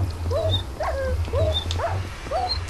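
Minecraft video game dogs whimper in a rapid series of short, high, rising-and-falling yelps, close and alone over a low steady hum.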